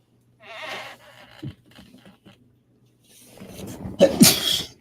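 A single loud sneeze bursts out near the end, preceded by a few quiet breaths and faint rustling.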